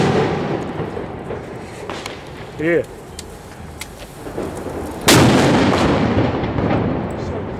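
A Tuono Gold firework by Funke goes off with one sharp, very loud bang after a few seconds of voices and quieter outdoor noise. A dense burst of crackling noise lingers behind it.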